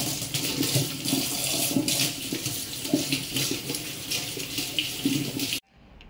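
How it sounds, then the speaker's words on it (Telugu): Colocasia leaves rinsed under a steady stream of running tap water, splashing and rustling continuously for several seconds before the flow cuts off abruptly. "మన చామాకుల్ని నీట్గా వాష్ చేసుకోవాలండి చాప కింద"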